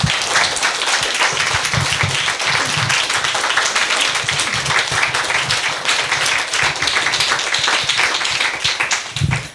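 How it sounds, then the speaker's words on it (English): Steady round of applause from an audience at a book talk on Joan Didion and Hollywood, dense clapping that stays loud and even throughout without pauses. "Can we have a round of applause?"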